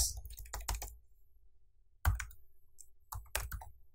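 A command typed on a computer keyboard in a terminal, sharp key clicks in short bursts separated by silent pauses, with a louder keystroke halfway through.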